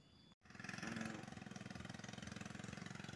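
A Sukhoi trail motorcycle engine runs steadily on the way up toward a mountain, its rhythmic, throbbing mid-range pulse loud and close after a brief cut, with no talk over it.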